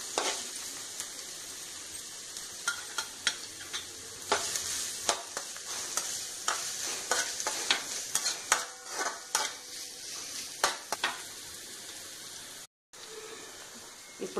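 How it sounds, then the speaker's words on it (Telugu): Capsicum pieces fry in a pan for a chilli idli dish. A steady sizzle runs throughout, broken by frequent sharp clicks and scrapes as a spoon stirs the pieces, with a brief drop near the end. "ఇప్పుడు ఈ క్యాప్సికమ్ కొంచెం వేగినవి"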